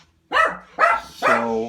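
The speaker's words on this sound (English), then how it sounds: "that was my dog" A dog gives three loud, close barks in quick succession, each a short yelping burst with a rising then falling pitch, with no talking over them.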